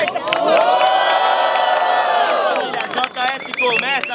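Crowd cheering and whooping at a Brazilian student rap battle in Guarulhos, a loud sustained roar with shouts rising over it, dipping briefly near the end before swelling again.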